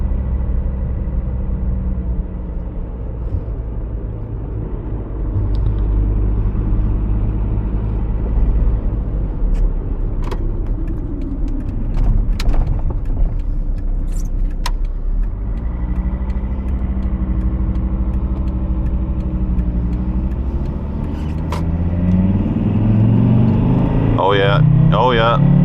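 A VW T4 2.5 TDI van with 151 hp drives along narrow country lanes, its steady low diesel rumble running throughout, with a few brief knocks and a rising engine note near the end.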